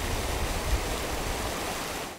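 Swift river current rushing steadily, with churning, recirculating water at a hydraulic; a loud, continuous broadband roar that holds constant throughout without pauses.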